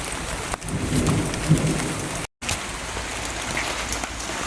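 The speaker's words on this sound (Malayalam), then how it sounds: "അയ്യോ മഴ മഴ മഴ." Rain falls on a home vegetable garden in a steady, fairly loud wash of hiss and patter, broken by one brief silent gap midway.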